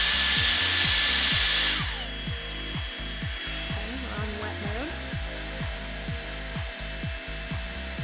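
A Dyson Airstrait hair straightener blows a loud, steady rush of air that cuts off sharply after about two seconds. Rhythmic rubbing strokes follow as it works through the hair.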